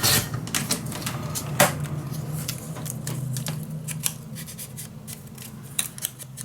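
Scissors snipping through patterned scrapbooking paper, a run of close, crisp cuts in irregular rhythm, with no talking over them.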